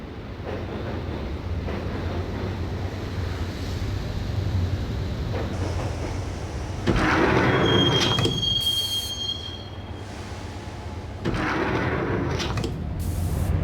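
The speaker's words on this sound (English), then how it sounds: "the train doors had already shut behind me, and I was in for the ride" A subway train rides through a tunnel in the Max Payne video game, a continuous rumbling roar of wheels on rails with sharp metallic squeals and surges in loudness, no voices over it.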